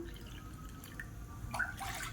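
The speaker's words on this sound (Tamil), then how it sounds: "மெஷரிங் கப்பில் ஒன்றரை கப் அளவுக்கு தண்ணி சேர்த்துக்கலாம்" Water pours into a cooking pan in a kitchen, a short faint splashing and trickling that swells briefly near the end.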